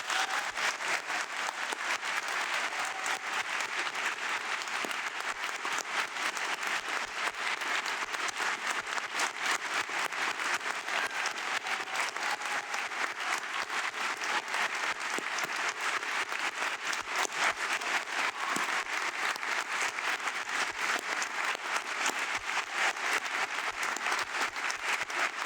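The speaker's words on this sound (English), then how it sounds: "how about one more round of applause for the 2021 graduating class" A sustained round of applause from a convocation audience for the 2021 graduating MPA class at Syracuse University's Maxwell School, steady and even for the whole stretch, a dense wash of many hands clapping at moderate distance.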